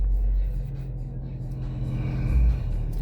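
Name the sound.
Mazda 6 2.5 engine revving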